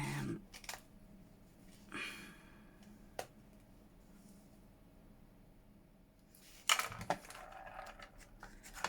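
Paper is cut with scissors for a nature-themed keepsake journal, with a few sharp, separated snips and rustles spread across a quiet room, ending in a louder burst of handling.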